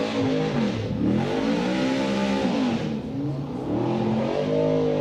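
A Ford Mustang drift car at full throttle during a Texas 2018 qualifying run, its engine revving loud and close, pitch climbing and dipping continuously without a break.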